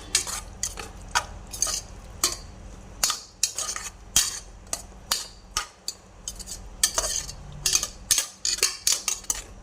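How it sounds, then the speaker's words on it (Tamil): Sautéed soybean kootu in a pan being stirred with a metal utensil: repeated close clinks and scrapes in an uneven rhythm, with a faint low cooking hum beneath and no talk. "அடுப்பு ஆன் பண்ணி கொஞ்சம் சுருளை வதக்கிக்கலாம்."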